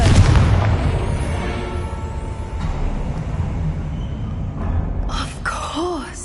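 A Confringo fire spell blasts in Hogwarts Legacy, a loud booming burst up front that rumbles and fades, followed later by brief magical whooshing tones.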